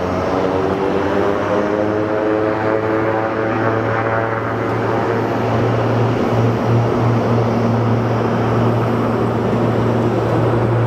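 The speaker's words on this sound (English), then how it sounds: "This is going to be a very, very quick takeoff." An airplane takes off at Sky Harbor airport in the rain, a loud, steady engine roar with a droning tone that holds throughout and never drops out.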